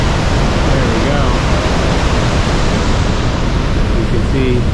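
Montmorency Falls in Quebec City, Canada, heard from a lookout above as a loud, constant broadband roar of falling water, with wind buffeting and faint voices mixed in.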